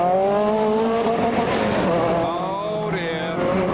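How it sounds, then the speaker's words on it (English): A heavily modified Renault at a Belgian car show launches hard, its engine roaring loud and close in a rising, harmonic-rich note that holds steady with a brief high squeal near the end. "he's going to do launch. It's probably ill-advised. Okay, here goes the Renault with various scribbles"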